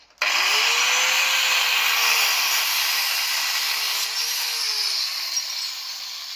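A power cutting tool slices through the exhaust bracket of a 2021 Sherco 50 SM Silver R motorcycle, a loud, steady, harsh grinding whine that starts abruptly and holds for several seconds, close up and alone.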